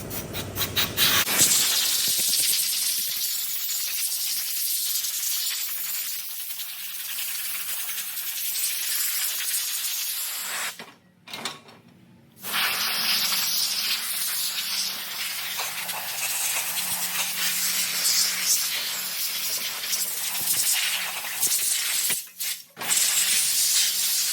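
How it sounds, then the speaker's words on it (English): High-pressure brake cleaner blasts through an air nozzle with a spout tip onto Duramax intake manifold parts, a loud steady hiss lasting over twenty seconds, broken by two brief pauses. "Take the air nozzle and then your little spout nozzle here, and we get high pressure brake clean."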